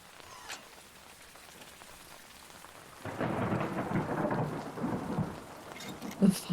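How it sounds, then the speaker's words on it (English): A thunderstorm rumbles at night during a camping trip, rain pattering throughout as a loud, close roll of thunder breaks in halfway and swells with cracking bursts near the end. "The thunder's right on top of us."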